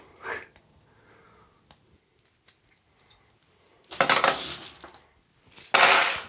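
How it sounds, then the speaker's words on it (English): Plastic Amiga 500 keycaps, removed from a flood-damaged keyboard, tumbling into a container in two loud rattling pours, each a dense clatter lasting about a second, after a quieter stretch of small handling sounds. "I'm going to use this container to put the keys inside"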